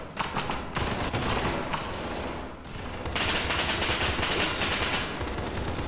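Dense, loud gunfire from SCP 5K game rounds, a rapid fusillade of cracking shots that keeps up without pause, with short lulls before it swells again.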